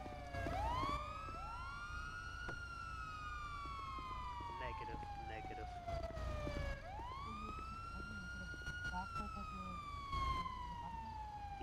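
A police car siren in the GTA video game wails in long rising and falling sweeps, steady and fairly loud, repeating across the clip with occasional voices and radio chatter beneath it.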